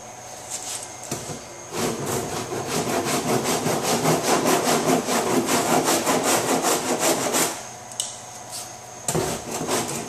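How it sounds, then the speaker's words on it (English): Coarse body filler grater rasping hardened filler on a 2005 Honda S2000 under autocross damage repair, in quick rhythmic back-and-forth strokes, loud and close, with brief pauses near the start and end. "I'm going to hit it with the grater and try to just get most of the bulk of the top off."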